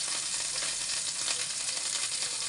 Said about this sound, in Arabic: هنزل بقى بيها في الميه اللي بتغلي اللي هي الشوربه بتاعتي